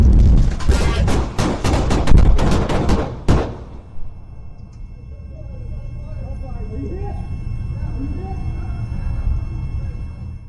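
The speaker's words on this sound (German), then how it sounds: "Es kommt zu einem Schusswechsel." A rapid burst of loud gunshots cracks out in quick succession for several seconds during a police shootout on an interstate, then stops, leaving faint voices and background noise.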